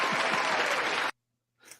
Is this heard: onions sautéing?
no